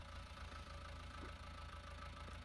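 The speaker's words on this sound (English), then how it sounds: "So what you are hearing is the actual sounds of a 6810," Ford 6810 tractor engine from a farming game, recorded from the real machine: a low, steady idle with rapid even pulsing, moderately faint and constant, no voices.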